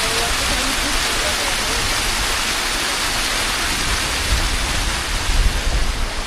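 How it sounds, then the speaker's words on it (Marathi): Heavy rain falls steadily during a monsoon trek near Tung fort, a dense loud hiss with no break. "पावसाला लागलाय परत."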